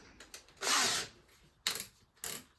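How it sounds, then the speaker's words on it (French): Cordless screwdriver driving screws into a solid wall while mounting floating shelves: one sustained whirring burst followed by two shorter quick bursts, moderately close, with small clicks between. "Donc là j'utilise la visseuse"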